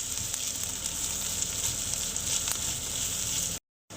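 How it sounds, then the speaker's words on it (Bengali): Potato and onion frying together in a pan for a ridge gourd and potato fry, a loud, continuous close sizzle with light stirring that cuts out abruptly near the end, with no talking. "এবার আলুটাকেও আমি পেঁয়াজের সঙ্গে একটু ভাজবো ভাজবো আলুটার সঙ্গে পেঁয়াজের সঙ্গে একসঙ্গে দুটো মিলিয়ে"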